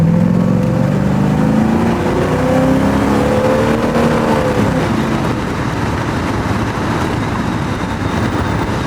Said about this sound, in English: I'll just stamp on the throttle when we get to these unrestricted zone.